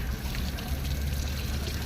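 Water trickles and splashes from a water tank at Badi Bijasan Mata temple in Sendhwa. The flow is steady and close, with a low rushing undertone and no speech.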